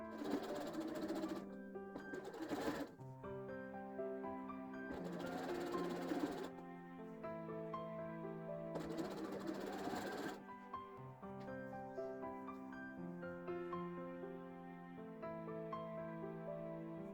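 A sewing machine pieces an Easter quilt, its motor whirring in bursts of steady stitching that stop and restart several times, heard up close and fairly quiet with no talking.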